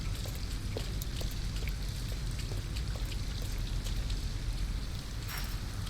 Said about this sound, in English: We got to get Alice out of the rain for sure.